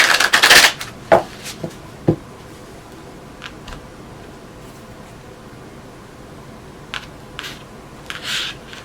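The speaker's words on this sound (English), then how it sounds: "one more shuffle" Tarot cards being shuffled: a loud burst of riffling at the start, then a few soft taps and quiet rustles, close and without speech.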